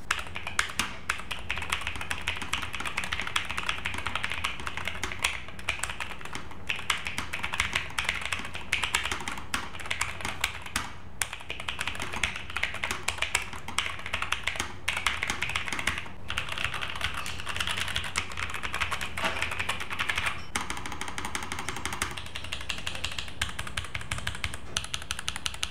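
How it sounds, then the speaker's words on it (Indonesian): Continuous fast typing on a Nuphy Air75 V2 low-profile mechanical keyboard, crisp close-up key clacks in a steady irregular stream with short pauses, no voices. "ini dia rasanya dan juga suaranya ngetik pakai Nuvi R75 version 2"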